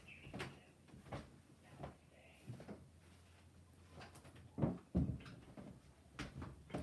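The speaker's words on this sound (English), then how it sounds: "I'm going to shut the door one moment." An indoor door is pushed shut with a few soft bumps and knocks, including a louder thud near the end, faint and a little distant.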